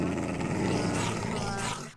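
A dog in Minecraft growls, a close, loud, rough rumbling snarl that holds for about two seconds and then cuts off.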